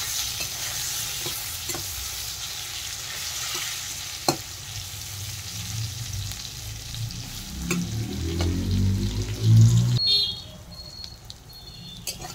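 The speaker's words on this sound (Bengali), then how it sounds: "নুন হলুদ দিয়ে আরেকটু ভেজে নেব পটল" Pointed gourd slices fry in oil with salt and turmeric, a steady close sizzle with scraping stirs that swell louder near the end, then drop away to a quieter hiss.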